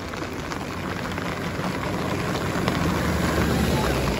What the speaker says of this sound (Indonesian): Dimana cuaca lagi hujan deras bosku ya.